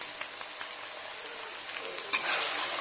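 Cauliflower and other vegetables fry in a pan with a steady, close sizzle that swells briefly near the end, and no voices are heard.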